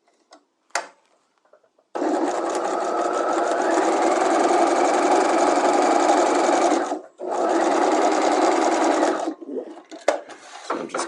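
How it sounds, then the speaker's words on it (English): A sewing machine stay stitches the corners of a patch pocket at a half-inch seam, running in a long loud burst, pausing briefly, then running again before stopping, with scattered handling clicks around it. "I'm going to stitch them at 1/2 inch, or stay stitch them at 1/2 inch"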